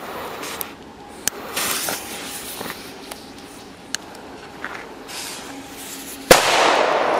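Sharp Komet D firecracker bangs go off one at a time at irregular intervals outdoors in autumn, then a louder, closer blast near the end with a crackling tail.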